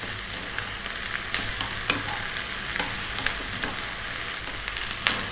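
Food stir-frying in a wok over lively heat: a steady close sizzle and crackle throughout, with sharp scraping and clacking hits from the stirring spatula at irregular moments.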